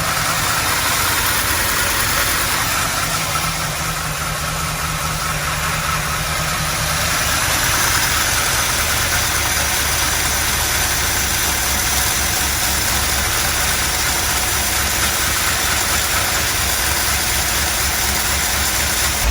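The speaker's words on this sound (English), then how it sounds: "So the fast idle's off, she's running damn good" A 30-year-old Pontiac Trans Am engine idles steadily after a tune-up with the fast idle off, a loud, even, continuous rumble with wind noise outdoors and no talk.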